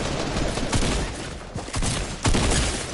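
Gunfire in Fortnite Battle Royale, a dense fusillade of rapid shots crackling continuously at close range over about three seconds, with no voices.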